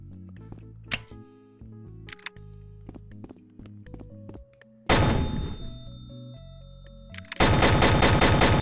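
Pump-action gun in the Rec Room video game firing rapidly while the trigger is held and the pump grip spammed, giving scattered sharp shots, then a harsh burst near 5 s and a loud sustained blast of fire to the end.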